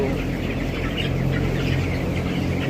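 Chicks in an EC poultry farm make a steady, dense wash of clucking and peeping throughout, close and continuous, with no one talking.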